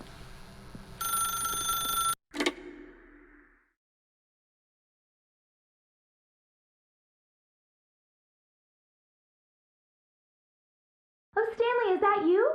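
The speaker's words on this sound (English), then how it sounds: "then pick up the phone." In The Stanley Parable video game, a telephone gives a short electronic ring of about two seconds, followed by a brief clatter and a long silence. A voice begins speaking near the end.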